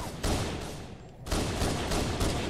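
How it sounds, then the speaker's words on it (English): Pistol fire in a multiplayer Western shooter match, two sharp close shots bursting out loud, a brief lull, then more dense gunfire rattling on through the rest. "I pull out my pistol at two shots and reload."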